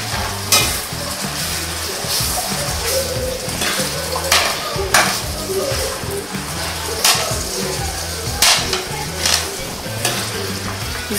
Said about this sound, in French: Maintenant, je vais commencer à tourner ma viande.